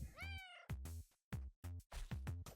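A pet cat in the video game Forager meows several times in quick succession, short clear game sound effects with brief silences between, loud and alone without talk.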